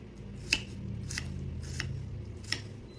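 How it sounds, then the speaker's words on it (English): A kitchen knife finely chopping an onion on a cutting board, making four crisp, evenly spaced chops over a low steady background. "And that is how you cut up an onion."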